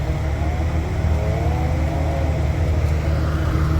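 Two V12 supercars, a Pagani Zonda F and a Pagani GTO, idle together nearby with a steady low engine rumble and whirring hum, continuous and even throughout with no revving.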